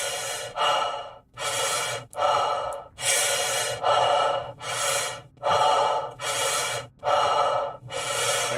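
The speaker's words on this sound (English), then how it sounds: "the breathing is so loud" Loud, heavy in-game character breathing in Star Citizen 3.18, a steady cycle of about eight rasping, gasping breaths close to the ear, each lasting roughly half a second to a second, with no talk.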